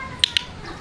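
Two sharp clicks from a dog-training clicker, close and crisp, spaced just over a tenth of a second apart against quiet background.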